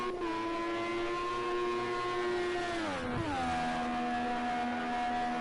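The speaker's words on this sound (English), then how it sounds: "Beautiful engine sound, as I have to say." Race car engine in the Project CARS 2 racing game during a Le Mans endurance event, a steady high-pitched drone that holds, dips sharply as the car lifts or downshifts, then settles again at a lower pitch, loud and alone.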